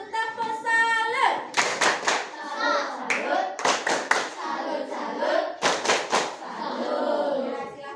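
Schoolchildren in a classroom perform a tepuk salut clapping routine, bursts of sharp rhythmic group claps alternating with children's chanting voices, close and lively.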